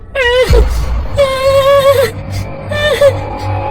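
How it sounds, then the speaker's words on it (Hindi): A baby cries in several drawn-out, high wailing bursts with short pauses between them, loud and close. "ये बच्चे के रोने की आवाज कहाँ से आ रही है"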